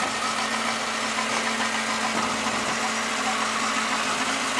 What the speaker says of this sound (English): This 122 seems to be idling fairly.